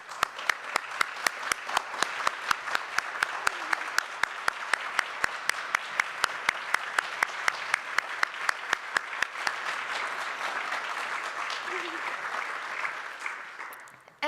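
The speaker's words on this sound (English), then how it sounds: "So let's applaud them once more." A church congregation applauds at length during a service, with a sustained patter of many hands, an evenly spaced clap cutting through sharply near the mic, and the sound slowly fading toward the end.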